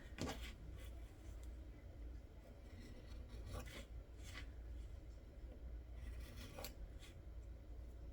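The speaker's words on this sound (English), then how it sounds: "Now I am going to trim along my edges." Garden lawn edges in a courtyard being trimmed by hand, giving a steady close rasping and scraping texture with a few sharper snips, continuous throughout.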